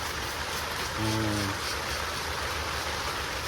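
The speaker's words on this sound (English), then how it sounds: "as y'all can hear, it's raining" Heavy rain pours down on a tent, a dense continuous hiss with a brief low hum partway through, steady and fairly quiet overall.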